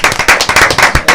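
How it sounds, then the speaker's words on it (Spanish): Studio audience applause welcoming a guest on a morning talk show, a dense, loud, close burst of hand claps with no voices over it. "vamos a recibirlo con un aplauso"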